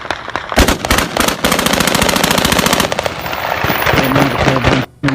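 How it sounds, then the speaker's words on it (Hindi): Taliban fighters fire celebratory bursts into the night sky over Kabul, loud rapid automatic gunfire crackling almost continuously for several seconds, with a brief pause near the end. "बढ़ती धारी तालिबानी काबुल में आधी रात को हवाई फायरिंग कर रहे हैं।"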